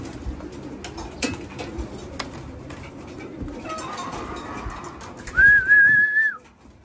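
Racing pigeons in a loft give a soft cooing call over a steady low rumble, and a clear rising whistle-like call comes near the end, then fades.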